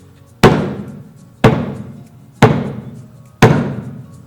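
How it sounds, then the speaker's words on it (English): A hand drum is played at its edge with the line of the fingers, giving four evenly spaced, sharp, close strikes roughly a second apart, each decaying quickly, with no talking. "it's a little bit of a higher sound than the full slap."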